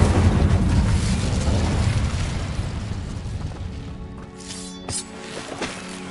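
An Incendio fire spell is cast in Hogwarts Legacy, bursting out as a loud, close roaring whoosh of flame that rumbles for several seconds, then tapers off into fainter crackles and small pops.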